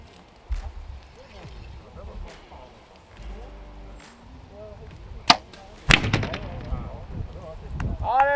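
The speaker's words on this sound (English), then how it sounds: "so you can hear the shot and see the arrows" Archery arrows shot at about 50 yards during a shooting competition, with sharp snapping releases and thwacks standing out among outdoor noise while people talk around them.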